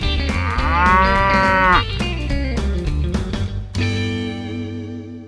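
Cattle on a farm low loudly and close by, in long harmonic moos that rise and fall, one call running into the next with no talking.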